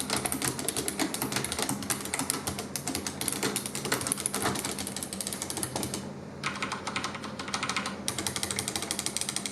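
Fast typing on a Mecha membrane keyboard, a dense, continuous patter of soft key presses with brief pauses, close up and without any voices.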